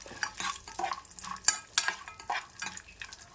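Dry fruits fry in a pan for a mung dal payasam: a quiet sizzle broken by irregular bursts of stirring and light metallic scrapes and taps of a spoon against the pan.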